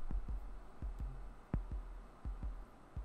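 GarageBand drum track built from percussion, shakers and kick drum, playing a steady pattern of punchy low thumps with one accented hit, quiet and alone with no talking.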